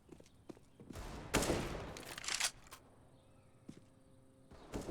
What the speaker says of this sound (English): One AK, and on Nico of all people, the right hand.